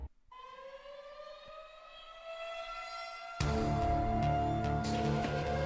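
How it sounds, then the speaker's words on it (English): A tornado warning siren wails in a long rising tone that swells and holds, then abruptly grows much louder and harsher partway through, a loud sustained outdoor wail with no talking. "The tornado siren sound, and it's just straight up terrifying."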